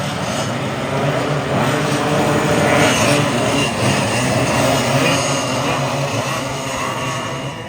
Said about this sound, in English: You got Yamaha dual engine right